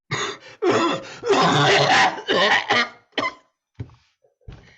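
A sick man coughs repeatedly in harsh, close bursts, a long fit followed by a few weaker, spaced coughs and throat sounds, during a play reading.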